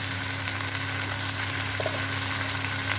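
Garlic paste and spices fry in hot oil with a steady, hissing sizzle that stays fairly loud and even throughout.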